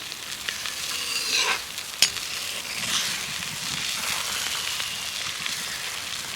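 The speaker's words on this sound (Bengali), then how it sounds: "এই যে তেলটা ফোটার সময় ওপরে গেঁজা ভর্তি হয়ে যাবে" Homemade aloe vera hair oil boils in a pan while being stirred, giving a continuous close frying sizzle with occasional scraping stirs and one sharp clink, and no voices.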